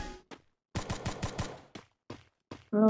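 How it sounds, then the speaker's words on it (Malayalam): Rapid burst of SCAR rifle fire in a video game: about five sharp, loud shots in quick rhythm, followed by a few isolated single shots with gaps of silence and a brief tonal sound at the end. "ഈ സ്കാർ ഞാൻ എപ്പോഴും എടുക്കാറ് ഹെഡ്ഷോട്ട് അടിക്കാൻ"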